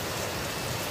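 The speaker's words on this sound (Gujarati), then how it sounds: "મસ્તીનો વરસાદ એ આવે છે" Rain falls over a village as a dense, even hiss of steady downpour, continuous and unbroken for the whole moment, with no voices.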